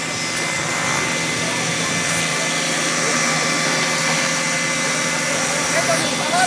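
A loud, continuous engine roar and whine of helicopters fills the clip, steady and close, with voices faintly beneath it.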